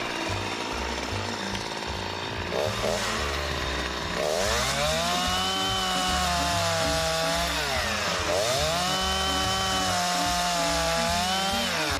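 A chainsaw with freshly hand-filed cutters roars steadily as it cuts through wood, its pitch dipping and rising as the blade bites in, loud and close throughout.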